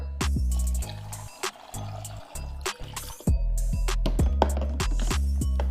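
Water is poured into the chamber of a baby food maker blender, a gurgling, trickling pour with rising bubbly tones that stops and starts a few times, close and fairly loud.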